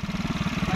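A 2009-model motorcycle engine idling close by with a quick, even putter of rapid low pulses, quiet and steady for under a second.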